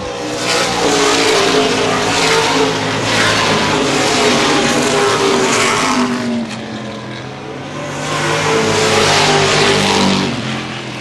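Late model stock cars in a 2013 CRA Late Model Sportsman race at Baer Field Speedway roar around the oval, loud engines swelling and fading as the pack passes twice.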